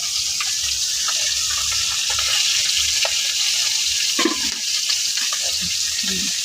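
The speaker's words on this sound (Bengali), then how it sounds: "আমি মাছটি বাজিয়ে নিচ্ছি কড়াইতে" Fish fries in a wok with a constant, dense sizzle close by, speckled with small crackles and faint scraping from time to time.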